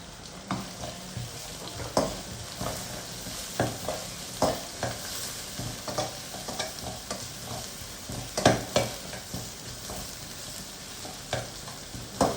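Onion, ginger and garlic fry in a pan for a homemade kizhi porotta filling, giving a steady sizzle broken by frequent scraping stirs at an irregular rhythm, close by with no talking.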